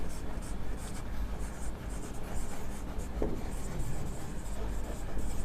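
Steady scratching of writing on a board while a summary is being written out, continuous and fairly close over a constant low room hum.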